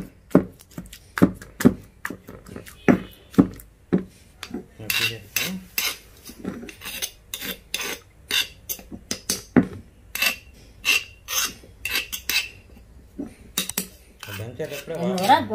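A knife chops gongura leaves on a board in a home kitchen, with quick, sharp, close taps in an irregular rhythm and brief pauses between bursts.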